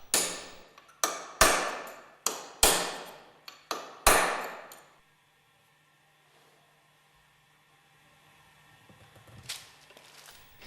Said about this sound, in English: Drive the angular contact ball bearing out of the bearing bush with the aid of a mandrel.